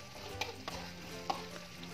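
Nasi uduk mixture with palm sugar being stirred in a pan: soft scraping strokes and a few light knocks of the utensil over a faint, steady sizzle, quiet and close.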